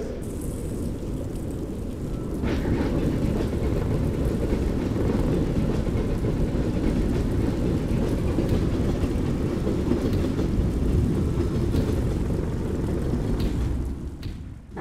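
A steady, heavy rumble of a train rolling in within the video game Project IGI, continuous and fairly loud, with a low rattling drone throughout and no voices.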